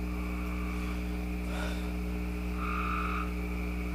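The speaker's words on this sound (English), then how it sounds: "Don't mind the frogs, they are just everywhere." Frogs croaking near an Allis-Chalmers D2900 engine under repair, a constant background chorus with a couple of louder nearby croaks standing out over a steady low hum.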